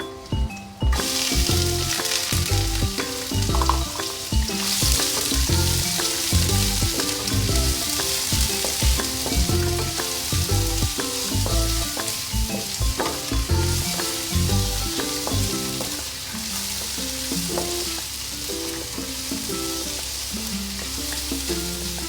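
Onion frying in a pan for Pinoy-style pasta in red sauce, a loud steady sizzle with busy stirring and clattering throughout, easing to a gentler hiss near the end, no voices.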